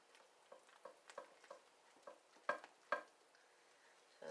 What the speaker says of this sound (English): It says you can use a blender or just mix it up by hand for 1 minute